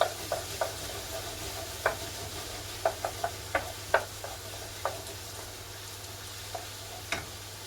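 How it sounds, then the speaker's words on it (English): Coq au vin with a heaped spoon of tomato puree is stirred in a pan, and a spoon scrapes and knocks against the metal in a dozen or so irregular clicks over a faint sizzle and low steady hum. "Give it a stir."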